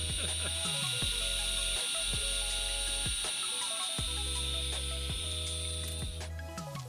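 A power drill whirs in repeated short bursts winding a 5-string bass guitar string, each burst winding down with a falling pitch, close and fairly loud with a steady high whine behind.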